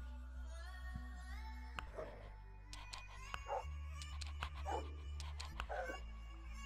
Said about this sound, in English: Oh my god, it's like a dog Tetris game. Yes, it's and, and they That's all amazing. They all bark.